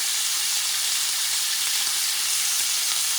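Butter sizzles loudly and steadily beside a ribeye steak in a hot pan, a dense, continuous frying hiss with no talking.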